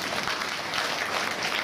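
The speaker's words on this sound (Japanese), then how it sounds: "めいちゃんに応援の拍手を送ろうぜ。" An audience claps together at Turtle Talk in Tokyo DisneySea, a steady, dense wash of applause that holds at an even level for under two seconds, with no one talking over it.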